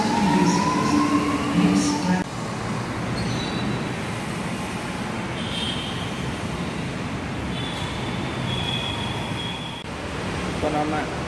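A Chennai CMRL metro train runs between St. Thomas Mount and Arumbakkam, a dense, continuous rolling roar from inside the carriage with faint wheel squeals, after a voice speaks at the start.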